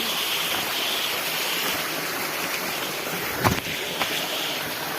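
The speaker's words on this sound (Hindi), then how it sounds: "आपको पूरा झरना दिखाते हुए चल रहे हैं" A popular waterfall in Uttarakhand roars as a steady, dense rush of falling water close by, with a couple of brief knocks partway through.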